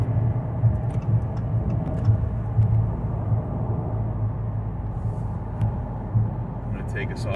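Riding inside a 2023 Dodge Challenger R/T Scat Pack Widebody on the highway brings a continuous low road and engine rumble with faint thumps, while someone talks over it.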